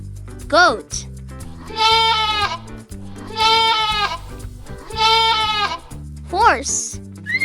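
A goat gives three wavering, drawn-out bleats over steady backing music, with a short bright voice at the start and end.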